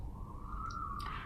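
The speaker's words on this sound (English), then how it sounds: "Sorry about that siren." A siren passing outside, heard faintly at a distance as a steady wailing tone that slowly rises and falls, with no speech over it.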